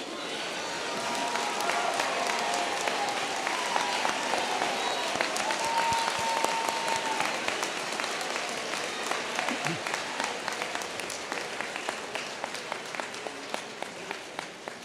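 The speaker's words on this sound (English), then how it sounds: "We applaud and commend you on your achievements." Graduates of Great Bay Community College receive loud, sustained applause at a commencement ceremony, the crowd's clapping filling the hall and thinning into scattered individual claps near the end.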